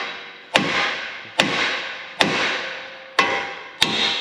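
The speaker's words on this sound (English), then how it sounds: "Chris, bust out that bigger hammer." A big hammer struck against a truck axle during a lift kit install, five loud metallic blows at uneven intervals, each ringing briefly before the next.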